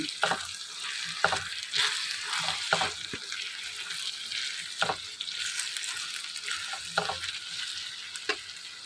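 Eggplant pieces frying with chili powder and green chilies are stirred in a pan, a steady close sizzle broken by repeated scraping strokes of the spoon at an irregular rhythm.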